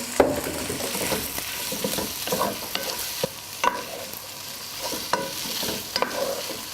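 Small crayfish are stir-fried in a pan with sesame oil and garlic, with a continuous sizzle broken by repeated sharp scrapes and clacks of stirring, close up and with no talking.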